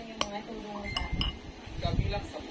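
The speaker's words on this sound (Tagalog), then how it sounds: "we're gonna put in the rice and just mix it" Rice and corned beef being mixed in a dish, with a few sharp clinks of a utensil against the dish over soft scraping, while a person talks nearby.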